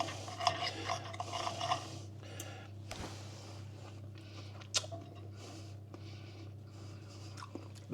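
Soft, close chewing of cooked squid with kimchi, quiet wet bites and mouth sounds over a low steady hum, with a few faint clinks of cutlery and dishes.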